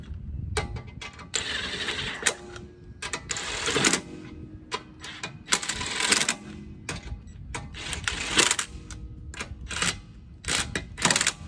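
A power tool whirs and buzzes in repeated short bursts, loud and close, as lug nuts are snugged onto a wheel of a 2004 Toyota Sienna, with brief pauses between runs.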